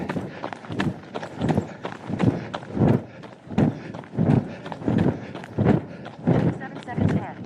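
A person walks briskly on a path around Lambrick Park, footfalls landing in a steady regular rhythm of roughly two per second, close and fairly loud, with a voice talking over them.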